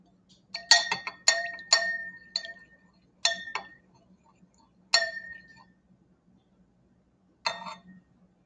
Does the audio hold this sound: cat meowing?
no